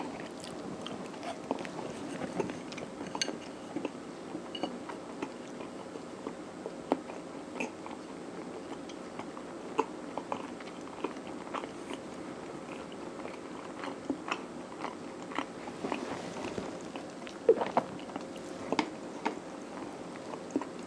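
Songpyeon rice cake with whole red bean filling being chewed up close, soft, quiet, repeated sticky bites and mouth sounds at an uneven pace over a faint hum.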